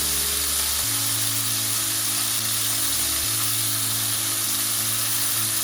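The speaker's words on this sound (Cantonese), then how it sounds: "咁我哋就開個中火啦，慢慢煎佢啦" Scallion-wrapped Iberico pork rolls pan-fry over medium heat, giving a steady, even sizzle with a low electrical hum underneath and no talking.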